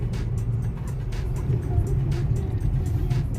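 Car driving on a mountain road toward Dhanaulti in Uttarakhand, heard from inside as a steady close engine and road hum with a few light clicks and rattles.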